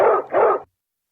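A dog barks twice in quick succession, close and loud, then falls silent.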